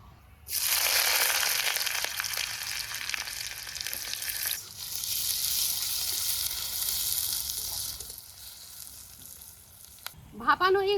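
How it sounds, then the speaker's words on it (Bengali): Bay leaf, dried chili, whole cumin and chopped onion frying in hot oil for a curry make a loud sizzle that bursts in suddenly, softens and swells again as more goes in, with a brief voice at the end. "তেজপাতা শুকনো লঙ্কা দিয়ে দিই গোটা জিরেও দিলাম এখন দেবো পেঁয়াজ কুচি"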